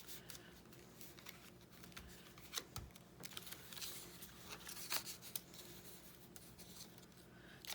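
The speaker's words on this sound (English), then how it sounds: "Quite textured paper there, making that noise." Textured paper rustles and crinkles while a journal folio is crafted, with quiet, irregular scrapes and soft crackles close by, fairly faint, with no talk.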